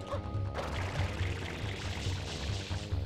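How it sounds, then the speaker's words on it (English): Water gushes steadily from a chunk of wall in Super Mario Sunshine, a continuous splashing pour with a throbbing low undertone running through the whole stretch. "It's like a chunk of wall spewing water."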